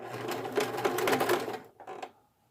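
A sewing machine stitches swimsuit fabric in a quick, rattling run of about a second and a half, pauses briefly, then gives one short final burst before stopping.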